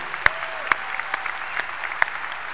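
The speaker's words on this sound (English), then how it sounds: "Nice round of applause for you guys," A graduation audience claps for a high school wind ensemble and orchestra, with only a few sparse, scattered claps ringing out at irregular intervals over a quiet hall.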